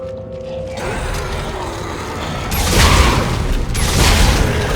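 A chunky weapon reload from the video game Dead Space 2: clanking mechanical clicks and ratcheting over a steady droning game soundscape, with a louder heavy thump partway through, all close and fairly loud.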